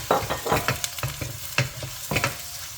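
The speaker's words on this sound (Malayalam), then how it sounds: "നമ്മൾ തേങ്ങ കൊത്തി വെച്ചേക്കണത് അതിലേക്കിട്ട് എല്ലാം കൂടെ കൂടി ഒന്ന് വഴറ്റിയെടുക്കുക" Onion and chopped coconut sautéing in a pan for a Kerala beef roast, with repeated stirring scrapes and a steady sizzle; several distinct spoon strokes sound close and fairly loud, with no voices.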